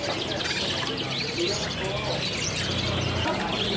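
Caged canaries and local parakeets at a busy bird market chirp and tweet continuously in a dense chorus, with people talking in the background throughout.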